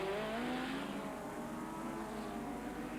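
Sports racing cars at a Scottish clubman race, including a 3.3-litre DFV-powered Ecosse C2, roar steadily past in the middle distance, with engine pitch sweeping as the cars pass and no voices present.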